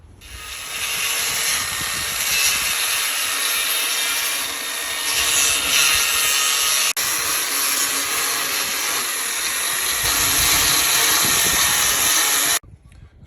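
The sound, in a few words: sanding a carved wooden sign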